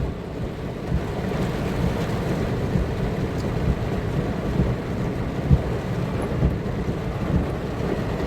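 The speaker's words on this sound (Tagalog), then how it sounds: "Napakalakas ng ulan." Heavy rain pours down in a steady, dense roar, with low rumbling and wind noise throughout and no voices.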